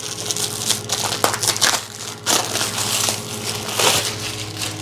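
A blank mouse pad for sublimation is handled up close, producing loud crinkling and crushing rustles in uneven bursts across the clip, with no voices.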